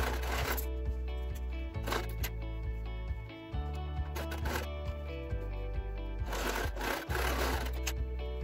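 A sewing machine stitches a Halloween pumpkin quilt block in short close bursts of rapid mechanical whirring, separated by brief pauses, with no talking.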